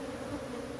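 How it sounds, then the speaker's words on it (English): A dense swarm of honey bees buzzes around an open hive being smoked during a spring comb inspection, a steady close hum with no pauses and no voices. "I'm using smoke to move the bees away because there is a lot of bees"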